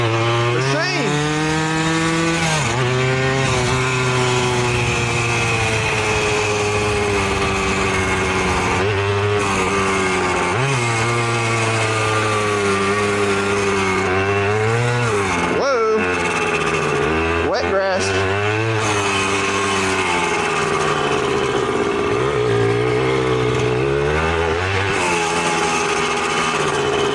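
A Suzuki DS80 80cc two-stroke dirt bike engine runs loud and close throughout, its buzzing pitch rising and falling as the throttle is revved and eased off.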